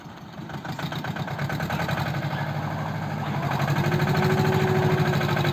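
A tractor nicknamed T-rex labours hard, its engine a loud, close, rhythmic chug that builds steadily in strength as the wheels slip and it pulls under heavy load.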